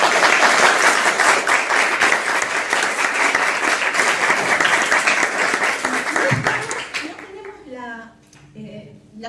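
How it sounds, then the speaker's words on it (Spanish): A loud, sustained round of audience applause at the opening of a museums and autism conference, dense clapping for about seven seconds before fading out as a speaker begins talking. "Yo quiero pedir un aplauso especial."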